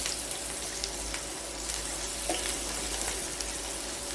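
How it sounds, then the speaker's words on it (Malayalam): Steady crackling sizzle of chicken frying in hot oil in a frying pan, continuous and fairly close, with small pops scattered throughout. "ഇനിയിപ്പോൾ നമ്മൾ ചിക്കൻ വറുക്കാൻ വേണ്ടി അതിൻ്റെ ഫ്രൈ പാനിലേക്ക് ഇടുകയാണ്"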